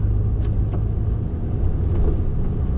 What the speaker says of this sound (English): I'm now sitting in that traffic to get back to the yard